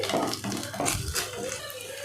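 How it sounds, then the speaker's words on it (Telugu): A small tea glass of water pours into a vegetable manchurian mixture, a close, steady splashing pour mixed with light clinks of a bowl, no talking. "ఒక చిన్న టీ గ్లాస్ అంతా వాటర్ యాడ్ చేసుకోండి"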